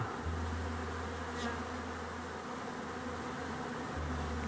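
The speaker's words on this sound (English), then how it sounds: "That's a lot of bees." Bees buzzing around blooming snowberry bushes make a dense, steady drone that is close and continuous, over a low background hum, with no talking.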